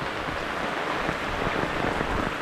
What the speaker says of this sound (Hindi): इन दोनों को कुछ फर्क ही नहीं पड़ रहा कि बारिश तेज है